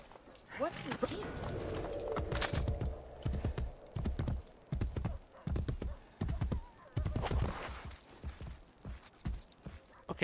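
Horse hooves clip-clop in Assassin's Creed Brotherhood, a rapid, steady gallop of repeated thuds mixed with game music and effects, while a player talks over them.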